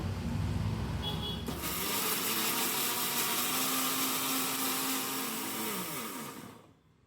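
An electric blender grinding ginger and garlic cloves into a paste, a loud continuous whirring motor that starts abruptly, holds steady, then winds down and stops.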